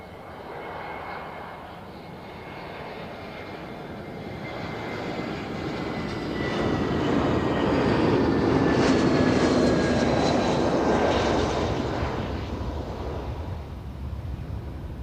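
A fixed-wing airliner arriving at Christchurch airport, its jet engine roar swelling from a distant rumble to a loud, broad whine and rushing wash that stays strong as it passes near, with no talk.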